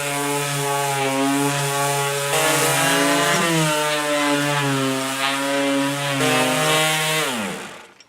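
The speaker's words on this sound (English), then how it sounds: "Got the palm sander with some, I think 120 grit in it. And we're going to start the sand." A palm sander fitted with 120-grit paper works an old headboard, its loud steady motor whine droning continuously with slight shifts in pitch under load before winding down at the end.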